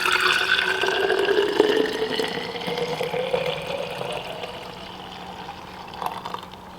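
Juice dripping and trickling from squeezed cucumbers, a close liquid pouring and dribbling sound that is strongest at first and then tapers to faint drips.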